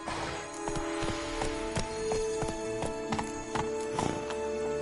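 A horse's hooves clip-clopping at a steady walking pace in the video game Witcher 3, rhythmic knocks over a humming game soundtrack, with no voices.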